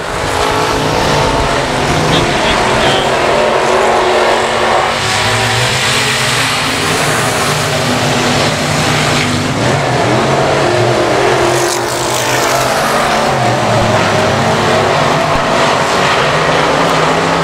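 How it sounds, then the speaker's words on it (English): Race cars lapping an oval speedway at I-37 Speedway, engines roaring loudly and continuously as cars pass and accelerate, a dense close field of revving under the track noise. "In that 377, here comes Cody Leonard in the 12."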